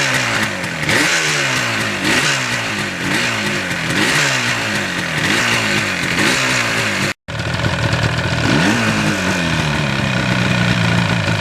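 A 1977 Yamaha RD400 two-stroke motorcycle runs close and loud, its engine rising and falling in repeated revs through warm-up, then settling after a brief cut into a steady idle with one more blip.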